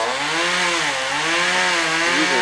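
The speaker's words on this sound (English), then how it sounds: "He's using a chainsaw." A chainsaw felling trees during debris clearing in the Bahamas runs loud and near in a short continuous burst, its raspy whine dipping and rising as it bogs into the wood, with no voices.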